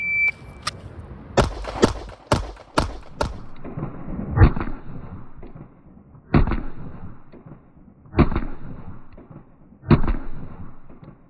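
Pistol fired at a 10 yard target, a quick string of sharp close cracks followed by single spaced shots, each with a short echoing tail.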